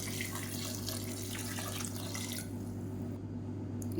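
Water streams steadily from a tap into a pot over a low constant hum, the pouring stopping partway and leaving the hum alone.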